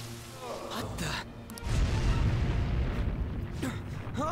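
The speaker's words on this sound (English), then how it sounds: "Huh? An explosion?" Explosion in the video game Persona 5: a deep, rumbling boom erupts around the midpoint and keeps roaring loudly to the end, after a quieter stretch of game ambience.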